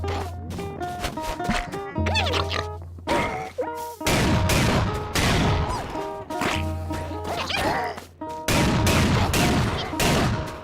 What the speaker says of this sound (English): Our sniper rifle feels nice,